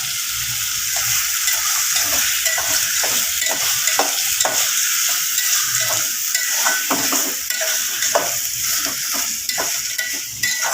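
Chicken curry fries in a pan after a light sprinkling of salt, giving a loud, continuous sizzle and crackle. Stirring scrapes and clinks break in throughout, and nobody speaks.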